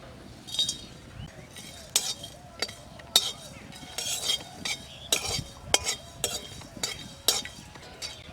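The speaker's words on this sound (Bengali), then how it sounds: "কড়া মশলা শুকনো খোলায় ভাজিয়ে নেব। জায়ত্রী, জায়ফল, এলাচ, দারচিনি, জিরে, ধনিয়া।" Whole spices (mace, nutmeg, cardamom, cinnamon, cumin and coriander) dry roast in a pan for village-style mutton curry, with rapid rhythmic scraping and clinking stir strokes over a faint rattle, close and moderately loud.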